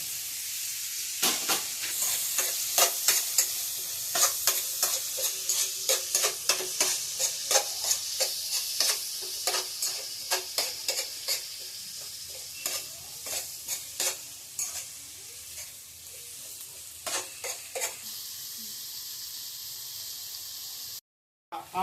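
Chopped onions sizzle and fry steadily in a hot pan, with repeated close, loud stirring scrapes in an uneven rhythm through most of the clip before easing toward the end.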